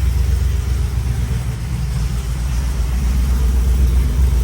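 A GMC Yukon Denali with an LQ4 engine and LS3-style top end runs steadily nearby, giving a deep continuous rumble that holds even throughout without revving up or down.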